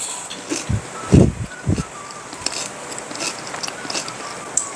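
Someone bites into a crunchy chocolate dream cake with mousse and a crisp topping, giving a few close crackling crunches in the first two seconds, then quieter chewing and faint rustles.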